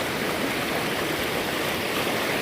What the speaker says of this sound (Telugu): ఇంత స్పీడ్గా పోతున్నాయి నీళ్ళు